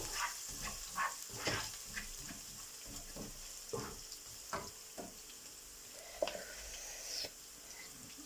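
Onion and garlic with ginger-garlic paste fry in a pan, a steady soft sizzle with scattered clicks and stirring scrapes close by, no voices.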